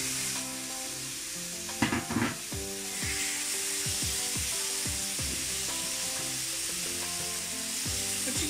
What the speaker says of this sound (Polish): kiedy mięso będzie się smażyć